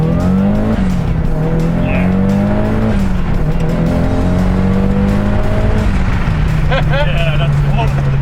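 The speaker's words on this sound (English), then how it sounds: "we're just gonna take it for a quick test drive, see what this whole Evo thing's about" A barn-find Mitsubishi Evo on a test drive, its engine droning loud and close as the revs climb and drop through several gear changes, with brief tyre noise near the end.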